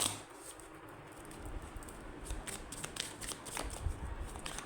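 Tarot cards are shuffled and drawn up close, with quiet riffling, soft slaps and brushing sounds that come in bursts and grow busier toward the end, with almost no voice.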